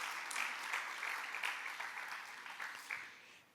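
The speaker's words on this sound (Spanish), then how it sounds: "Dale un buen aplauso a mi Jesús, si tú eres un verdadero adorador." A church congregation applauds in worship, a sustained bright wash of many hands clapping at moderate distance, easing slightly in the final moments.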